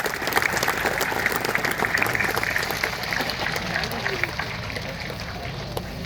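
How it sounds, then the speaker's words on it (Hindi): Loud, continuous applause from a large audience at a Dhamma conference in Parbhani, many hands clapping in a thick even roar that holds steady for several seconds before easing slightly toward the end. "जोरदार एक बार तालियां।"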